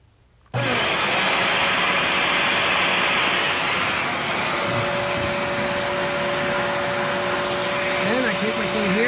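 A Bissell 3624 Spot Clean Professional portable carpet cleaner motor switches on abruptly after a moment of quiet, then runs as a loud, steady, close-up whine with a broad roar through the rest of the clip.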